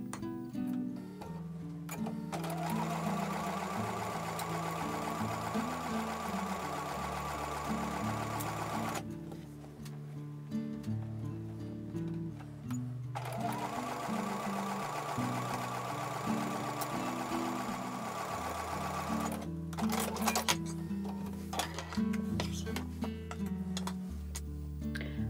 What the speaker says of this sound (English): I'm going to take that to the sewing machine and sew with a 1/4 inch seam